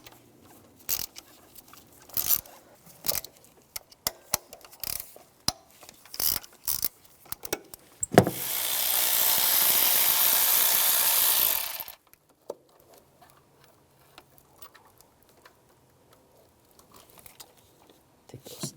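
Repeated ratchet clicks from a 10mm socket ratchet backing off the studs on the EGR valve shield of a 2006–2011 Cadillac DTS, scattered close-up clicking bursts with a steadier noisy stretch in the middle.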